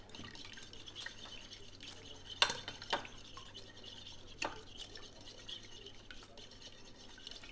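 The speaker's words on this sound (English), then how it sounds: "So you just want to stir that." A fork stirs a wet mixture in a dish for pork tenderloin sandwich breading, giving scattered light scrapes and clinks with a few sharper taps against the bowl, close up and quiet, with no talking.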